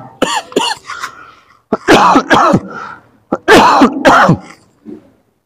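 Several loud, harsh coughs in close succession, near and alone, with short pauses between bursts and a softer throat sound at the end.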